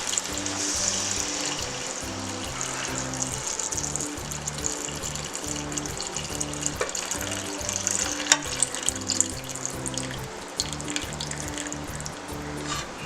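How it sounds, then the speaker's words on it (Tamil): Boiled chicken stock being poured into a pot for chicken haleem, a steady watery splashing and gurgling stream with faint sizzling, running continuously beneath background music. "இந்த சிக்கன் ஸ்டாக்குடைய வாட்டரை வந்து இதில் ஆட் பண்ணிக்கணும்"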